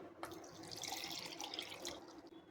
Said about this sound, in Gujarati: તો એક બાઉલ પાણી આપણે અહીંયા સોજીની અંદર ઉમેરી લીધું છે।